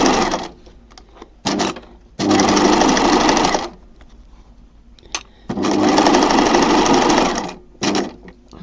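Sewing machine stitching fabric bunting, running in loud sustained bursts of steady stitching separated by short pauses and a few quick single stitches, with no voices.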